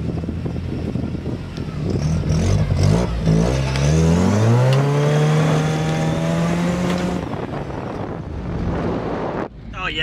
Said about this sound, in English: Little clutch kick.